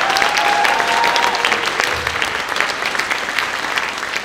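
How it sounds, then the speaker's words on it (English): A crowd at an anime convention closing ceremony applauds its volunteers, loud steady clapping with a few cheers and whistles rising above it throughout. "Can we give a round of applause to our volunteers?"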